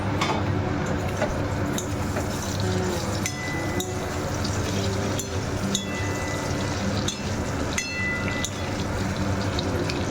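Pointed gourd pieces frying in a pan, pressed down as they fry, a steady dense sizzle with scattered crackles and pops running throughout, close and continuous with no talk.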